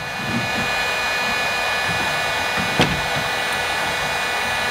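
A heat gun blows hot air onto a car fender being heated for rolling, a steady close whooshing hiss that runs unbroken throughout, with one brief sharp tick partway through.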